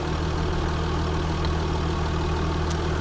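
Diesel engine of a Jaguar XJ Sovereign with the 2.7 TDVi warmed up and idling, a steady low hum and rumble heard close by and alone, with no talk.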